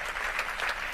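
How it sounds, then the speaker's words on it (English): Panel audience at a 25th anniversary event applauding in a steady, dense wash of clapping that swells slightly midway, with no voices over it. "Let's just give a round of applause to the panel."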